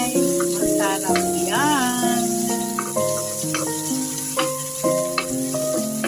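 A tomato sautés in a pan with fried garlic and onion, giving a steady close sizzle with occasional stirring clatter under prominent tonal music.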